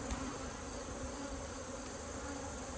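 Honey bees in a fall hive of about sixteen or seventeen frames give off a dense, steady buzzing hum, close up and fairly faint, with no speech.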